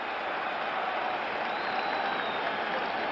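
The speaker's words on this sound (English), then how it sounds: "And the crowd coming to life here at the stadium." Stadium crowd at a 1969 NFL game between the Minnesota Vikings and New York Giants, a distant, steady roar of thousands of fans, hissy and muffled, with no distinct voices.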